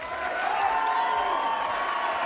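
Audience applause and crowd noise at a televised Georgia gubernatorial debate, a steady, dense wash of clapping at moderate level throughout, with no voices standing out.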